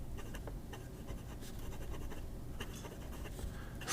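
A Jinhao 100 Skeleton Red fountain pen with a scratchy fine Moonman nib writing in Diplomat Burgundy ink, giving steady close-up scratching strokes on paper, quiet and continuous with brief pauses.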